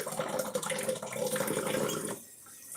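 Hot water runs steadily from a kitchen tap into a sink, a continuous close hiss and splash that stops abruptly near the end.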